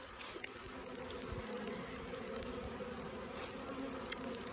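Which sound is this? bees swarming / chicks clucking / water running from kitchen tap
bees swarming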